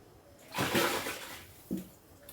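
Fresh fish being rinsed in a pot or bowl of water while preparing pepper soup, a broad splashing swish of about a second followed by a brief slosh, close and moderately loud.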